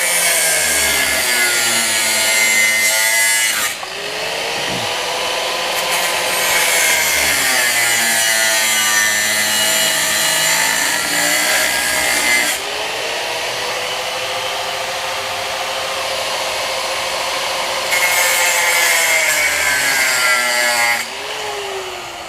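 Angle grinder cutting off a seized brake rotor screw on a Honda Fit hub, a loud continuous high-pitched grinding whine that dips and rises in pitch as pressure changes, very close, with no talking.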